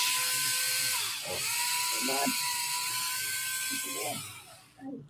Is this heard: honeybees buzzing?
no